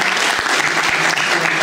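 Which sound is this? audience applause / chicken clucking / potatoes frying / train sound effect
audience applause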